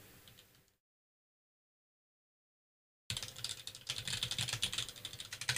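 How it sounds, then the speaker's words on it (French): Rapid clicking of a computer keyboard being typed on, fairly close, starting after a stretch of silence and continuing steadily. "On entend beaucoup mon clavier."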